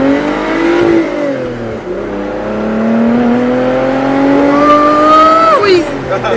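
A Lotus Evora on a freshly fitted clutch pulls away gently, its engine note rising smoothly through a long rev climb with a brief dip before climbing again, loud and close from inside the car, with voices talking over it.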